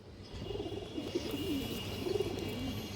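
A China Khaki pigeon coos close up in a soft, repeated warbling rhythm over a low background hum.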